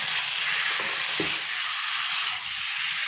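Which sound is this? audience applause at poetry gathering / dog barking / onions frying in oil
onions frying in oil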